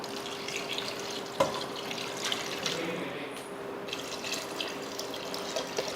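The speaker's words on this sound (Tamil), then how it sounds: "இப்போ தண்ணி சேர்த்துருவோம்." Water poured into a cooking pot for dal khichdi, a steady close splashing and running stream with a few drips and clinks of the pot.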